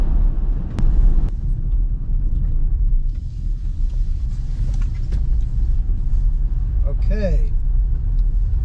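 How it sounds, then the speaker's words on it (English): A Kia EV9 RWD electric SUV with rear-wheel drive travels along a dirt road. A steady, close low rumble of the tyres and cabin runs throughout, and a voice briefly speaks over it. "This is a little dirt road. And obviously it's rear-wheel drive, so, you know, just a little tail out, but handled pretty well."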